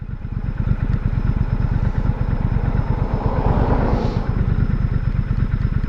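A Brixton Cromwell 1200 motorcycle engine runs steadily up close, a continuous loud rumbling throb with fast regular firing pulses and a slight swell in revs midway, no voices.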